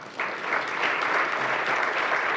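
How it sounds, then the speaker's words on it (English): A conference audience applauds, a dense steady patter of many hands clapping that starts abruptly and holds at an even level. "So please join me in a round of applause."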